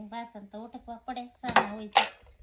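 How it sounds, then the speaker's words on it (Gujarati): Dishes and utensils, including tea vessels and a basin, are being scrubbed and washed at a village farmyard, with clinks and clatters of metal building to sharper bangs near the end while a voice talks intermittently. "આ વાડીએ જો કેવા મસ્ત વાસણ ઉટકવા બેહી ગયા"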